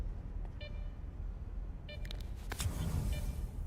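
An electronic device in the video game S.T.A.L.K.E.R. 2 beeps in short, bright tones, a few spaced beeps followed by a quick cluster, over a low ambient rumble.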